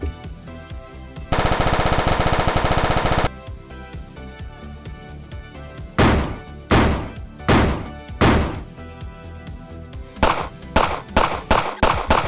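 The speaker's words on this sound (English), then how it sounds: "I also added some placeholder sounds to the guns just to make your immersion even higher" Placeholder gunfire from an indie first-person shooter built in Unity: a loud sustained automatic burst, then several separate heavy single shots, ending in a quick run of rapid shots, with no talking.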